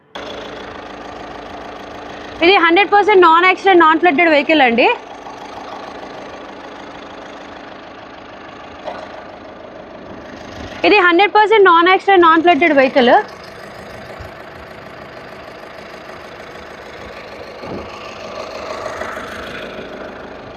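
A used Skoda Rapid Elegance diesel car idles with a steady, even low rumble that runs the whole time, while someone speaks over it in two short stretches.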